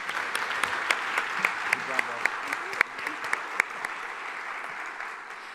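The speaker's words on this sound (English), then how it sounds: "Let's give this panel a round of applause" Steady audience applause for a panel in a general session room, a continuous wash of many hands with a few sharper individual claps standing out, a brief voice murmuring underneath partway through.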